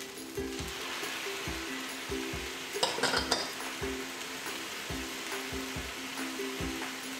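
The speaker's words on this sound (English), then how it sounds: "in the middle of the wok, I'm making a hole and I'm adding this soy sauce in the middle to burn it" Soy sauce sizzles in a hot wok of Japanese fried rice (chahan), with steady frying hiss and a spatula stirring and scraping in rhythmic strokes, plus a brief burst of louder sputtering midway.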